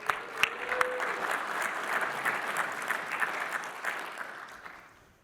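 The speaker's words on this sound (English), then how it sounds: "Ladies and gentlemen, round of applause for Dan Gartner here." An audience claps at a tech conference session on gaming and cloud AI, a steady wash of moderate applause that holds for several seconds and then tapers away.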